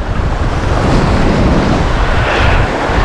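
Surf waves break and wash along the Galveston beachfront during wade fishing, a loud continuous roar of churning water close around the listener, with wind buffeting the microphone throughout.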